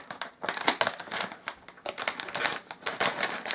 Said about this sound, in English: Pop the stuff out, and then it says to cut along this line.